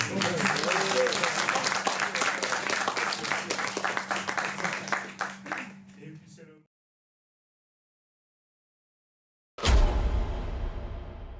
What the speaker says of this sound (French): Et merci à Az, on va applaudir ensemble